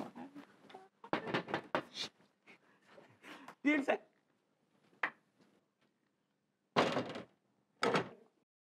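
Knocking on a door in a Hindi comedy scene, sharp raps that come in short bursts among stretches of people talking.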